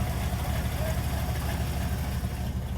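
An engine idles steadily during a throttle position adjustment, giving a constant low rumble with a faint tonal whine above it, close and unchanging in level.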